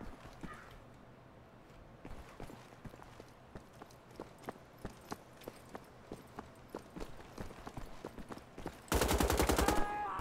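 Gunfire aimed at the player in the video game Wolfenstein: The Old Blood, a steady string of sharp single shots that ends in a loud, rapid automatic burst.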